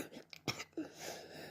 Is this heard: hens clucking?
no